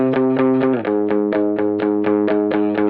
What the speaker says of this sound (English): I went ahead and added an electric guitar, which is panned to the right, just chugging along with the chords.